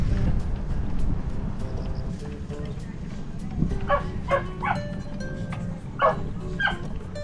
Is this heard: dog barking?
yes